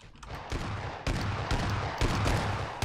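Gunfire in PlayerUnknown's Battlegrounds, a series of sharp loud shots spaced roughly half a second apart, each with a burst of impact and echo, alone without talk.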